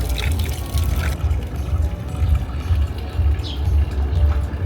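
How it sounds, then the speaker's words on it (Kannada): Drinking water splashes steadily from a carved outdoor tap into a basin in the Italian Dolomites, a continuous close pouring and gurgling with no talk over it. "ಇದು ಕುಡಿಯೋ ನೀರಿದೆ."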